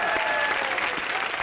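Studio audience applause at a Hindi TV comedy show, dense and steady clapping filling the whole moment at even loudness, with a faint crowd murmur beneath.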